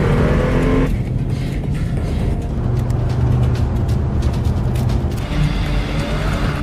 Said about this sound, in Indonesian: Sean pun berlari menuju mobil yang sudah disiapkan oleh sang istri, yang kemudian dikejar oleh Santo bersama anak buahnya